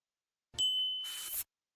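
A notification bell sound effect rings once as a bright, clean ding with a short shimmering tail, alone against silence.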